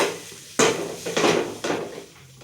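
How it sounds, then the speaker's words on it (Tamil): Shredded cooked chicken filling is mixed in a bowl, with three or four distinct clattering knocks of a utensil against the dish, close and fairly loud, each fading quickly, no voices. "இப்போ இதை நல்லா மிக்ஸ் பண்ணிக்கலாம்"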